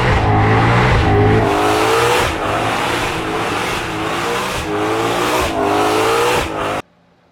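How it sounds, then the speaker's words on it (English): A 2020 Ford Shelby GT500 with a supercharged cross-plane V8 roars loudly through repeated hard accelerations, its engine note rising through the gears with brief shift dips before cutting off abruptly. "The noise that supercharger makes, it is a monster."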